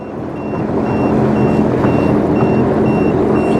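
A navigation device's hazard-warning beep repeats at a steady rhythm, high and thin, over a constant loud rumble of a vehicle driving.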